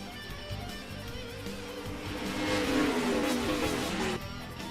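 A pack of NASCAR race cars in NR2003 surges at a green-flag restart at Texas, the engine drone swelling and peaking in a dense roar before easing slightly. No voice is heard.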